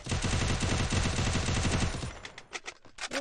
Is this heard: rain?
no